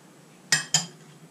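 A utensil clinks twice against a bowl while Greek quail marinade with olive oil and black pepper is mixed, two sharp close taps over quiet background.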